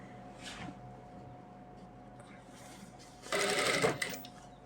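Sewing machine stitching over a lace seam on salwar trousers, a short loud whirring burst near the end after a quiet stretch with faint handling noises, close up.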